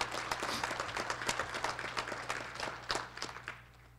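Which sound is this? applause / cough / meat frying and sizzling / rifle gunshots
applause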